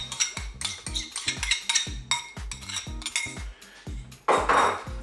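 Salad being tossed with a yogurt mustard sauce in a bowl, heard as a series of close, rhythmic clinks and scrapes of utensils against the dish, with a louder scraping burst near the end.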